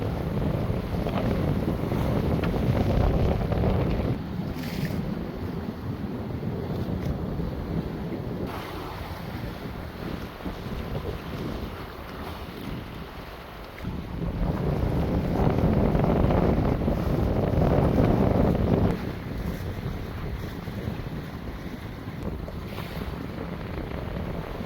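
Strong wind roars across a sailboat with a reefed mainsail on a passage from Senegal to Cabo Verde, a steady loud rush with gusts and buffeting on the microphone, mixed with waves and sea wash, and no talk.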